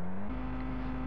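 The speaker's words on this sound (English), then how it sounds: "all I hear is just a motorist revving" A car engine revs inside the VRChat video game, a steady droning hum that shifts pitch partway through and holds level, with no talking over it.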